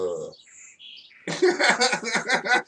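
Birds chirping: a few thin, scattered tweets, then a dense run of rapid chattering calls close by.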